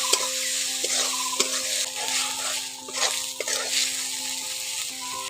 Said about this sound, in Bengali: আদা রসুন বাটাটাকে একটু ভালো করে কষে নিতে হবে।